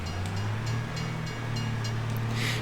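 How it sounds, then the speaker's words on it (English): A train rolls past a level crossing in Farming Simulator 25, giving a steady, loud low rumble with faint rhythmic clatter throughout, no voices. "The train has passed."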